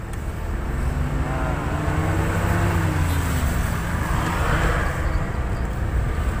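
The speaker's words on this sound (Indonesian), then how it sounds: "Kita di jalan raya." A 1987 Mitsubishi Jet Star MPV driving along a main road: a loud, continuous engine drone with a tone that rises and falls, steady road and wind noise throughout, no talk.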